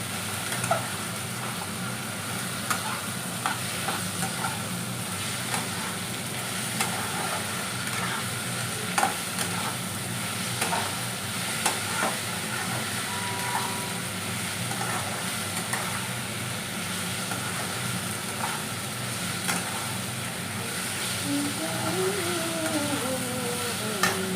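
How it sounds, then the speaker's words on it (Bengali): Chopped tomato fries with ginger garlic paste in a pan, a soft steady sizzle with intermittent stirring scrapes, fairly faint and continuous. "টমেটো কুচোনো, ভালো করে আমি এটা কষবো যতক্ষণ না আদা রসুনের কাঁচা গন্ধটা চলে যায়।"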